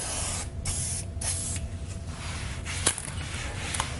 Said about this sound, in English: I come back with the spray lube